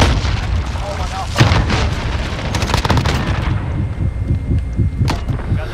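Gunfire and explosions in a Call of Duty Search and Destroy match with a chopper gunner: dense, loud bursts of booming shots and blasts rolling on continuously, with sharper cracks standing out near the middle and end.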